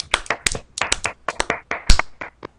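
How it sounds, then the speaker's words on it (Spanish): Hand clapping in tribute to actor Christopher Lee: a close, sparse run of individual claps with uneven rhythm, like a single person or small group applauding. "un pequeño minuto de aplauso para este actor"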